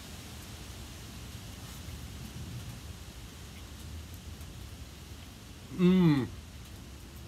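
Light rain falling outdoors beside a Louisiana Grills kamado-style ceramic barbecue while pulled pork is served, a steady soft hiss throughout, with a man briefly murmuring near the end.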